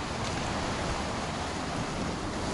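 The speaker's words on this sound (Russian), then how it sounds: "волна набегает. Вот такой здесь шторм. Такие здесь волны." Storm waves surge onto Flamingo beach, a dense, loud rushing wash of surf with wind noise, continuous and unbroken through the short stretch.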